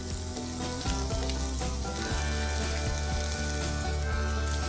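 Chopped celery frying in a pan with capsicum for egg fried rice, a continuous sizzle under a steady tonal hum, with repeated short clicks and scrapes of stirring.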